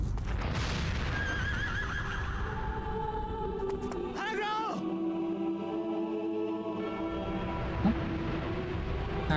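A horse whinnies loudly in Shadow of the Colossus, a long quavering neigh rising over continuous game ambience and background sounds, with a player's voice talking throughout.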